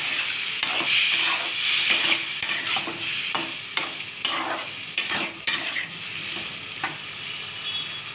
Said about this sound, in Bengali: এরপর একটু মশলাটা দেওয়ার জন্য একটু জল দিলাম, ভালো করে কষিয়ে নেব।